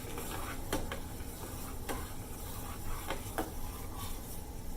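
Pongal being stirred in a pot, with soft scraping strokes and faint clicks of a spoon at a steady rhythm, low and close beneath a constant background hiss.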